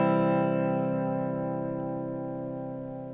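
A sustained electric guitar chord rings out through a heavy reverb pedal, the lush wash slowly fading away with no playing on top.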